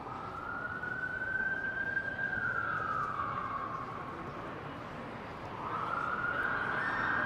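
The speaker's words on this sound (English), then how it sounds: "Sirens going off in the distance." A distant emergency siren wails continuously in downtown Toronto, its pitch rising and falling slowly over a steady background hum of traffic.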